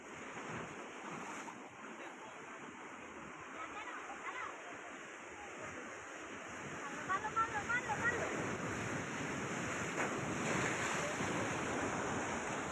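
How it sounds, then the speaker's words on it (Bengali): Sea waves at Mohona beach in Digha roll and wash in steadily with wind across the microphone, a broad continuous surf wash that swells louder in the second half. "ঢেউগুলো শুধু দেখুন কিরকম!"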